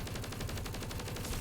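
Hand cannon gunfire in Black Ops Cold War, a fast, evenly spaced stream of sharp shots repeating steadily throughout at moderate loudness, with no talking.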